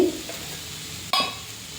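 Beetroot halwa stirred with ghee in a pan: soft scraping and a faint sizzle, broken by a single sharp metallic clink partway through, with no voices.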